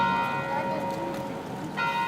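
Church bells ring out across the city of Graz for a minute's silence after a shooting, with one clear, resonant strike fading into a long, humming decay before the next strike, and no voices.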